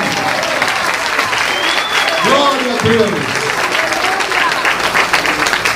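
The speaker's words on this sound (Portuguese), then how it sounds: "Vamos aplaudir o Senhor." An audience at a church talk applauds, a steady patter of clapping beneath someone speaking briefly near the middle.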